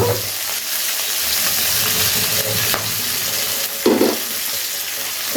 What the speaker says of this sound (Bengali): মাথাগুলো ভেজে নেওয়া হয়ে গেছে এবারে মাথাগুলোকে তুলে নেব